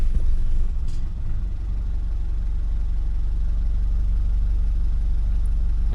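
A Nissan Terrano R51 idles at about 650 RPM with a steady, deep, close engine rumble that holds even and unbroken throughout, with no voices over it.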